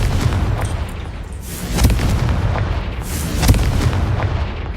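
Confringo fire spell blasts in Hogwarts Legacy, a run of booming bursts with sharp cracks at roughly one-second intervals over a rumbling background, loud and close.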